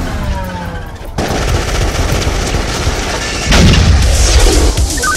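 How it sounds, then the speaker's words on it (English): Gunfire in a shootout from an action film trailer, loud dense bursts and rumbling blasts layered over a soundtrack, rising into heavier booming toward the end. "we have an ongoing shootout at 24th and Northwest Street"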